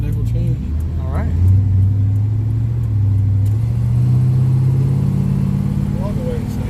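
A 1968 Chevrolet Impala's big V8 engine rumbles steadily while driving, its pitch rising and settling as it pulls along, loud and close, with occasional voices underneath.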